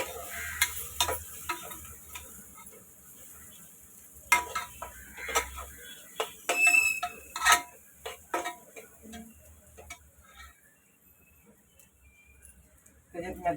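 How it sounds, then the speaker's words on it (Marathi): Red chili powder frying in a pan, with faint sizzling under scattered sharp clicks and scraping taps of a spoon stirring against the pan, close and intermittent. "दोन चम्मच लाल मिरची पावडर आणि थोडीशी वरती टाकते. चांगलं तळून घेत आहे."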